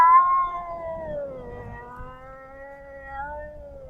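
A cat howls in one long, drawn-out wavering cry that slowly dips and then rises again in pitch, fairly clear and close with faint background noise beneath it.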